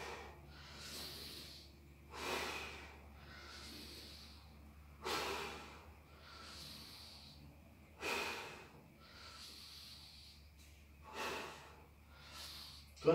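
Heavy breathing during a cardio workout: loud, rhythmic exhalations and sharp nasal snorts recur every two to three seconds close to the microphone over a low steady hum, with no talking.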